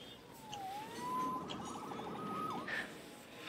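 A faint police siren in Marvel's Spider-Man Remastered wails and rises in pitch at a distance, over a low background hum, with no talking.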